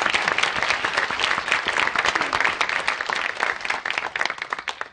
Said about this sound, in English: give a round of applause to our panel